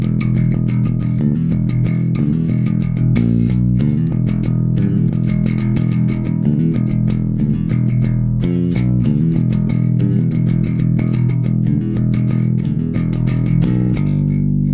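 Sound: electric bass playing riff repeats

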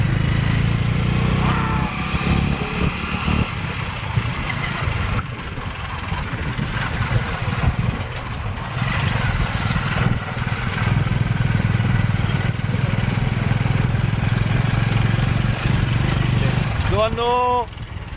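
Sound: tractor engine running in a field

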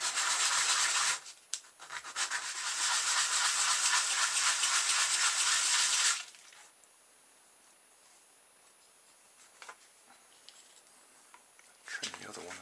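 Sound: sanding edge of a model car part with sandpaper

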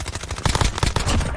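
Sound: gunfire in the video game Call of Duty

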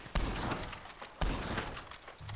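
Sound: gunshots in the video game Red Dead Redemption 2 Online

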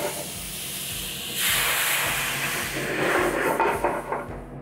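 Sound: Marsala wine hissing as it deglazes a hot pan

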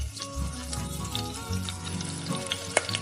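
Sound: mustard seeds sizzling in hot oil

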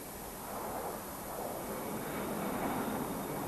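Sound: jet aircraft engines during takeoff

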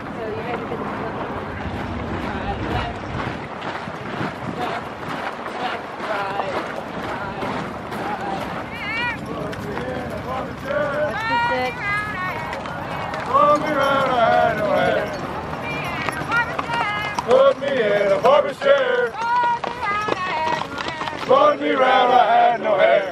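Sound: horses running, hooves clip-clopping

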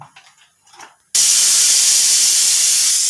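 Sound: pressure cooker whistling while cooking green gram dal

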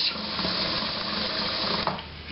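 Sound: kitchen sink faucet water running

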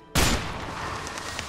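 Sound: sniper rifle shot in video game A Way Out

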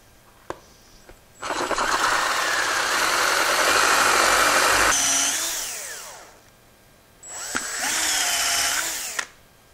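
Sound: lathe turning a pen blank, removing material

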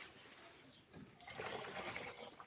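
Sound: rinsing a jar with water

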